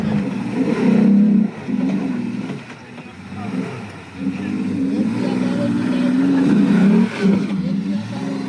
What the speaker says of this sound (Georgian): აი ტრექშენით მოდის ეს სუბარუები